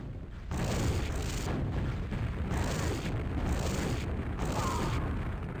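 Rocket explosions in the QuakeWorld duel game, a dense rumbling wash of booms pulsing in several bursts over a few seconds, loud and continuous without clear separate hits.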